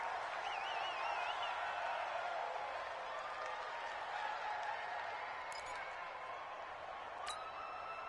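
Steady stadium crowd roar from a PS4 football video game, a continuous loud wash of noise throughout, with brief synthetic tones and game effects near the end.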